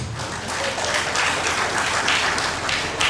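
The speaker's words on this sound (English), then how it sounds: "I'm sure the man deserves a round of applause" Audience applause at a live-streamed gathering in Delta State, a steady full burst of clapping throughout, loud and close, with no talking.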